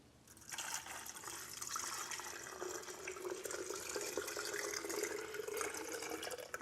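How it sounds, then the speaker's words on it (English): Water poured into a Nama M1 plant milk maker makes a steady, close liquid rush that starts abruptly and keeps up a continuous splashing fill for several seconds, with no voices. "I'm going to go ahead and pour the water in."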